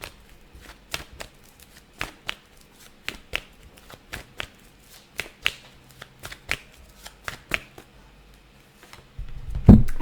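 A deck of tarot cards being shuffled: crisp, evenly spaced card snaps repeating through the clip, close and fairly quiet, with a low thump at the end.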